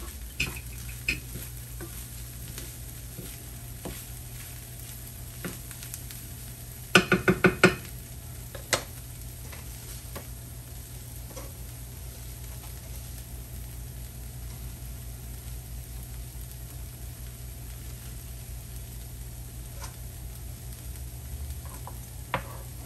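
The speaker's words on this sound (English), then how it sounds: "Give it a stir." Corn sizzles quietly in a pan for a corn and kale salad, a faint, steady frying hiss with occasional ticks of a spoon. A brief burst of scraping comes near the start, and no one speaks.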